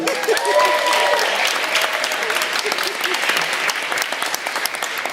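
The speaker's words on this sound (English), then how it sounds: "Round of applause for Julian." Wedding guests applaud Julian during the speeches, a steady round of clapping from a room full of people with a few voices and faint tones beneath it.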